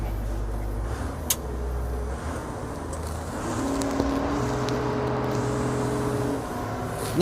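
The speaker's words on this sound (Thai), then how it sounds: "ขออนุญาตติดเครื่องนะพี่น้อง" The heavy diesel engine of an old Komatsu PC120-3 excavator idles steadily nearby with a low, rumbling drone, broken by a few clanks and knocks.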